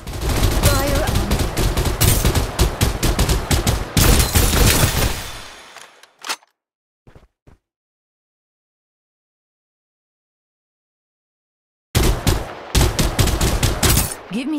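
Rapid bursts of automatic gunfire from the Farlight 84 battle royale shooter crackle loudly for about five seconds, then stop; a few isolated shots follow, then silence, before another loud volley of dense shooting resumes near the end.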